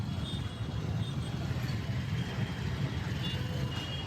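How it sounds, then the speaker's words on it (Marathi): Stalled road traffic in a jam produces a constant low engine rumble and hum, heard from inside or near the vehicles, with faint voices mixed in. "थांबलेलं ट्रॅफिक आहे पूर्णपणे बेकार थांबले एकदम"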